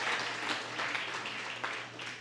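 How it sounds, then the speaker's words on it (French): Audience applause at a Parti Québécois rally, steady broadband clapping from a crowd, moderately faint, lasting throughout with slight swells. "applaudissez Gilles Proulx"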